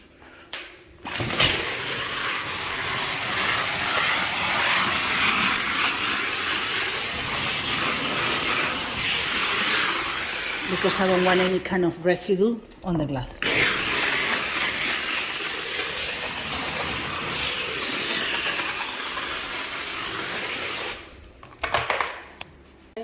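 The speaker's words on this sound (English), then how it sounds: "so I'm gonna use our vapor steamer" A vapor steamer hisses loudly and steadily for most of the time during post-remodeling cleaning, with brief pauses, while a person speaks briefly over it.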